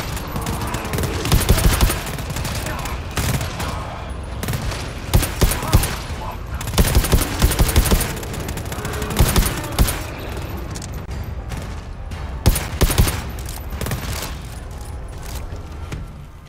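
DMR rifle fire in the co-op shooter GTFO, dense bursts of gunshots from several weapons layered together, loud and continuous with heavy impacts across the whole stretch, with voices mixed underneath.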